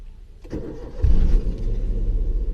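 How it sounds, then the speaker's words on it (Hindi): A car in neutral with the handbrake on starts up close by: a short starter crank, then the engine catches with a loud surge and settles into a steady, rumbling idle. "तो ये मेरी गाड़ी अभी स्टार्ट हो चुकी है"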